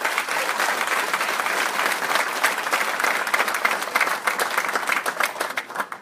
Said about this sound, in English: Jeff Taglianti, if we could just give him a nice round of applause